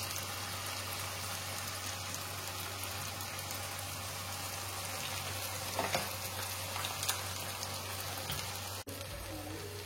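Soya chilli is stirred with sauces in a hot pan, a continuous close sizzle and hiss like light rain, with a few soft scraping clatters partway through and no speech.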